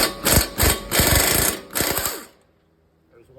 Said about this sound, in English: first I'm going to try to get these 3 18 millimeter wheel bearing bolts out.